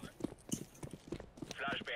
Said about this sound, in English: Hop on that horse, hop on that horse, you better hop on that horse.